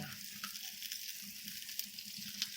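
Kothimbir wadi, coriander fritters, fry in oil with a soft, steady crackling sizzle, faint and continuous with a few small pops.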